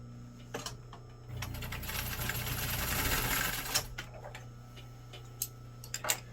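A sewing machine stitches jeans on a medium stitch length in a steady whirring run of a couple of seconds, close up, framed by scattered ticks and clicks from handling the machine.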